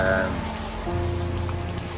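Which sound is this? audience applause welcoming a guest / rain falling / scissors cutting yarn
rain falling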